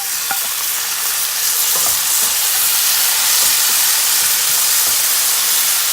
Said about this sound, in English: Tomato is fried along with onion